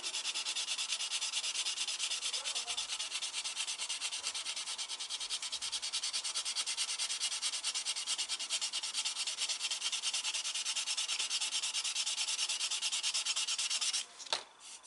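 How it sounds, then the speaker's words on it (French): Steady dry rubbing of sandpaper wearing black paint off a small part of a VW Beetle scale model, continuous and close for most of the stretch, with a brief knock and pause right at the end. "quand on ponce le noir et qu'on sait que c'est bien poncé"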